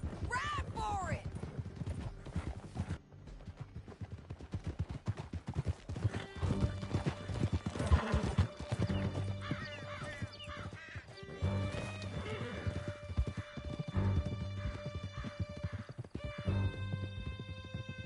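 Horses gallop in a steady clip-clop rhythm during a canyon escape in Red Dead Redemption 2, with whinnies and music layered over the hooves and voices talking across much of the run.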